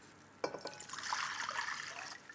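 Water pours into a bowl for pizza dough, a soft splash at the start settling into a steady, close trickle that lasts about two seconds before tapering off.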